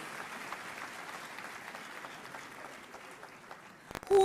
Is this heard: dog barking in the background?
no